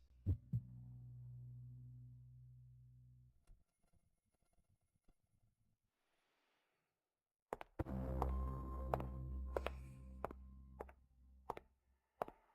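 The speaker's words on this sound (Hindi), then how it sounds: "मेरे दिल की धड़कनें इतनी तेज क्यों हो रही हैं?" A fast heartbeat sound effect in a Hindi romantic drama: low, muffled thumps open the scene, followed by a long quiet stretch, then a denser passage of deep pulsing beats with sharp clicks and humming tones.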